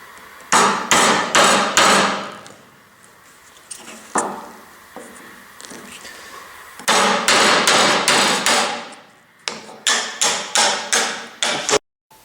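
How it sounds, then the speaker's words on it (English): A hammer drives a chisel into wood while a turkey call is carved, delivering loud, close bursts of rapid sharp blows in rhythmic runs separated by short pauses. "and then just chisel it out."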